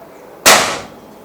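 A single sharp, loud crack of a 500cc PCP bullpup air rifle shot bursts out close by, then trails off in a brief hiss.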